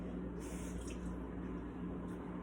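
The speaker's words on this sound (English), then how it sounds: "we are going to add 1 tablespoon of water, and this can just be tap water" A tablespoon of tap water is poured into mug cake batter, a faint, brief liquid dribble over a steady low background hum.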